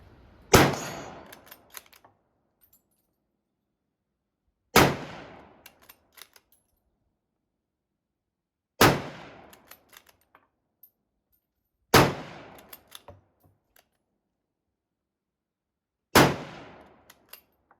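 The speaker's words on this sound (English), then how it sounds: "let's shoot a couple more rounds and see how she feels" A French MAS-36 bolt-action rifle fires 1959 Toulouse ammunition outdoors in five loud single shots, spaced about four seconds apart, each followed by a short decaying echo and faint clicks of the bolt being cycled.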